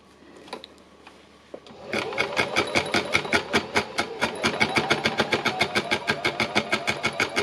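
Sewing machine stitching fabric pieces together for a yellow and green art piece, starting after a brief pause with quiet handling noise, then a steady, fast, even run of stitches close by with no talking.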